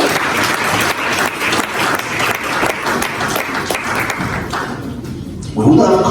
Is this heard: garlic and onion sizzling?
no